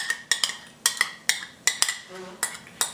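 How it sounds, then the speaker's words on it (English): A spoon clinks and scrapes repeatedly against a bowl while chickpea flour (besan) and rice flour batter is mixed with yogurt for dhokla, with sharp, regular strokes close by and no talk. "I'm going to mix this really, really well so we don't have any lumps forming"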